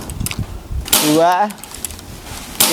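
A cheap big-game PCP air rifle rated over 900 FPS fires two sharp, close cracks about two seconds apart, with a voice speaking between them.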